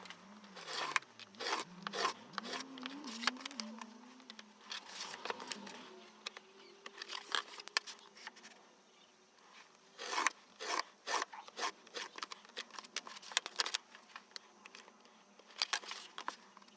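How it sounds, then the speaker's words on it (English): Board pieces are cut for a cloth-covered book slipcase, with repeated close scraping, rasping strokes and short crunchy cuts in uneven bursts, and a brief faint tonal whine early on. "I'll go ahead and cut those pieces of board for the spine and the head and the tail."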